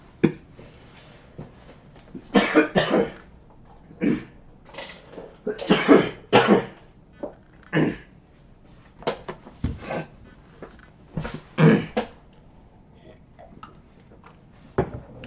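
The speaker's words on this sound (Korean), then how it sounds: "기침이 안 나왔는데 갑자기 기침이 나요" Repeated coughing fits from a man during a Korean real-estate lecture, close and loud, coming in short clustered bursts of several coughs each, scattered across the span with brief quiet gaps and throat-clearing sounds between them.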